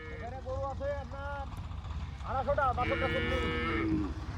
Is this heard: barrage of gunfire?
no